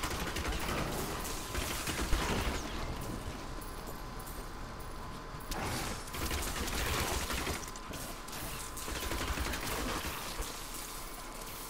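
A Demon Hunter's Rapid Fire attack in Diablo 3 rattles in a continuous mechanical stream of quick shots. It sits over a busy, moderately faint layer of game effects that swells in a few surges.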